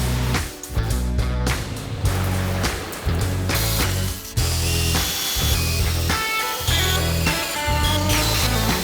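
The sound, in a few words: power drill drilling holes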